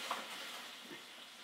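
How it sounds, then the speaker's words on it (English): Sausage sizzles steadily in a frying pan with garlic as liquid is added to deglaze, a soft continuous hiss with faint stirring and no talking. "I'm going to slightly deglaze it. Let the sausage finish off braising."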